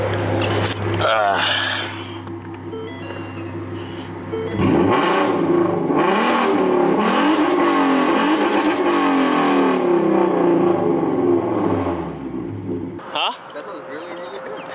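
A V6 Ford Mustang running catless exhaust idles with a low steady drone, then is revved hard for several seconds in loud rising and falling bursts close by before it drops back to idle. Voices talk faintly underneath.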